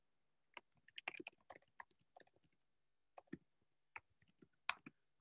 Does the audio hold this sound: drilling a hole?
no